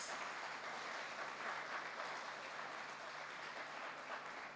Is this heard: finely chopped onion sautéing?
no